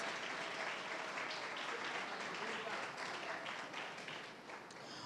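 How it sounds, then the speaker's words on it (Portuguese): A church congregation applauds during a sermon, producing a broad, even wash of clapping that tapers near the end, with voices faintly underneath. "Vamos aplaudir ao Senhor por isso."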